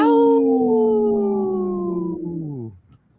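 A voice imitates a wolf howl, one long, loud, sustained wavering note that slowly falls in pitch before trailing off, heard alone and up close, slightly strained by a cold.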